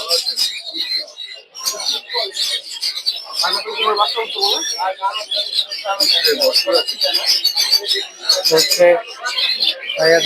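Lory chicks and other caged birds at a busy Friday bird market in Mirpur 1 give dense, continuous high chirps and calls throughout, close and loud, with someone talking over them.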